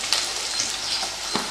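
Onion, ginger, garlic and dried and green chillies sautéing in a pan for pirandai thuvaiyal, giving a steady close sizzle with a few soft stirring scrapes and no voices.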